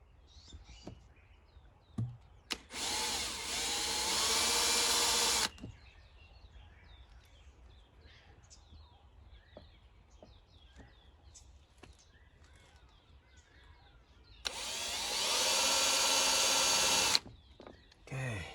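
A power drill whirs in two loud bursts of a few seconds each near a Land Rover Defender's number plate, separated by quieter handling noises and faint birdsong.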